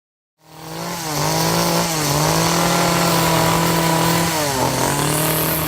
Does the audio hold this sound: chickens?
no